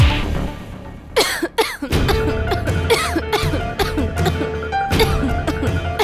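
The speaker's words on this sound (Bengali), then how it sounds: "আপনার কাশি এসে গেল?" A man in a courtroom drama scene coughs in several harsh, loud bursts close by, with throat clearing between them and music playing underneath.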